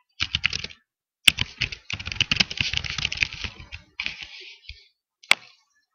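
Rapid clicking keystrokes on a computer keyboard, close by, in quick bursts separated by short pauses, with a final isolated tap.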